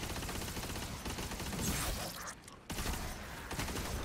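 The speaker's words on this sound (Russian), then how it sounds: "Пушка начинает стрелять быстрее." Dense, rapid gunfire in Destiny 2 rattles almost continuously, a fast stream of shots with a brief dip near the end before resuming.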